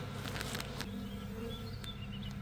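A wild honey bee swarm being moved into a hive frame hums in a faint, steady buzz, with soft scattered rustles and taps close by.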